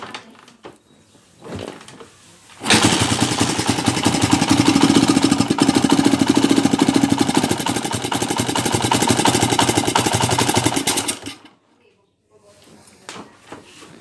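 A noisy Honda TMX 155 motorcycle engine, brought in for an overhaul, idles loudly with a fast, rattling, knocking beat for about nine seconds before cutting off, with quieter workshop sounds before and after.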